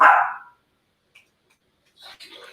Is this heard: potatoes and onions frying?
no